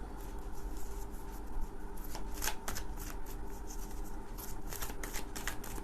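Tarot cards shuffled by hand in quick riffling bursts, a steady papery flutter with sharper snaps near the middle and end, close and fairly quiet, with no voice over it.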